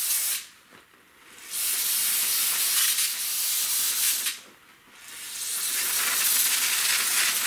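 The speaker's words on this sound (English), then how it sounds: "You can do them like wet a napkin and do it, or just spray them." Aerosol spray hissing onto brake caliper slide pins during a front brake job on a Toyota Avalon, two sustained close bursts of several seconds each separated by a short pause.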